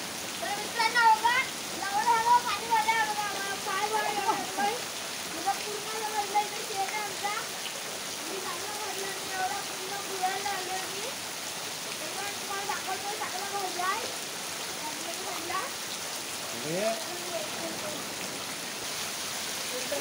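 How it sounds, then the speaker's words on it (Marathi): Heavy rain in Dapoli, Konkan, pours steadily with a dense hiss, and a person talks over it throughout. "मित्रांनो आमच्या इथं एवढं जोरदार पाऊस आलेला आहे."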